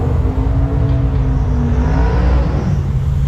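A modified Dodge Demon fitted with a Forza Stage 2 package idles and revs loudly at a quarter-mile drag strip at night, its deep engine tone steady and close with slight rises in pitch.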